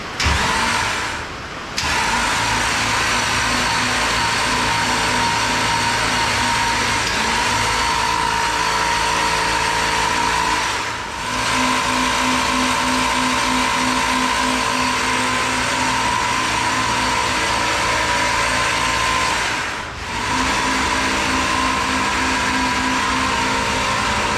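A race car engine with its spark plug removed and a spare carburetor fitted is cranked over by the starter, a steady loud whirring drone lasting many seconds with two brief pauses, no talking.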